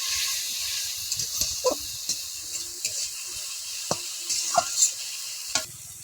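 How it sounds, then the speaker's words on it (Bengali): Chili powder spice paste fries in a pan for a spicy bhangon fish curry, a quiet, steady hiss punctuated by scattered scrapes and taps of a stirring spoon. "দিয়ে সুন্দর করে মশলাটা আবার একটু কষিয়ে নেব।"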